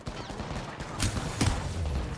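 Gunfire in the video game Apex Legends, played as Mad Maggie in a ranked match: a couple of sharp shots stand out against a busy, rumbling background of game sound, fairly close and brief.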